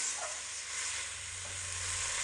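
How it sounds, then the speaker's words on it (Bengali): Water added to an egg and potato curry sizzles in a soft, even hiss with a low simmering rumble, close but fairly quiet, with no talking. "হাফ বাটি মতো জল দিয়ে দিচ্ছি। হালকা একটু নাড়াচাড়া করে দেব।"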